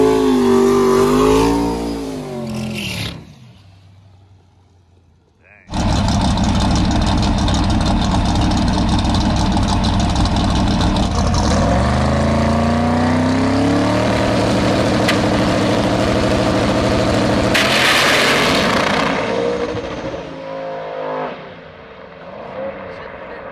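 Drag racing car on a 6-second, 224 mph pass, engine roaring loud then cutting out, followed by a long sustained blast of engine noise with pitch sweeps, fading at the end.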